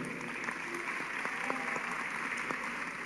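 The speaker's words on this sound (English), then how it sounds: "Big round of applause for them as well." Audience applause fills a hall at a college freshers' welcome event, a steady wash of many hands clapping throughout the short stretch at moderate volume.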